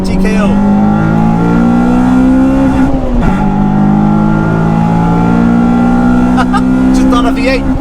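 A track-focused Honda Civic Type-R EP3 engine revs hard and close, high-pitched wails climbing and dipping through several rises with a sharp drop around the middle, loud and dominant with talk mixed in.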